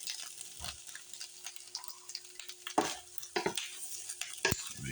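Bacon, egg and tomato cooking in a frying pan for a sandwich, with a steady background sizzle and several sharp clinks and scrapes of a utensil against the pan, close and moderately loud, no talking.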